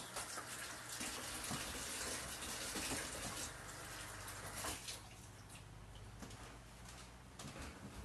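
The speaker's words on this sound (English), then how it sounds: "So I'm just going to give this a quick rinse." Tap water runs steadily over cauliflower being rinsed in a kitchen, a close, continuous splashing rush that eases a little toward the end.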